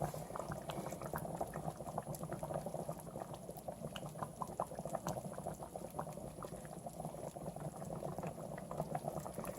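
Pork cacciatore sauce simmers in a pan, a steady close bubbling and light popping that runs unbroken and fairly soft with no talk over it.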